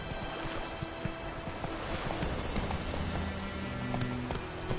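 Hoofbeats of Geralt's horse Roach galloping in The Witcher 3, a fast, steady clip-clop rhythm running throughout over game music and ambience.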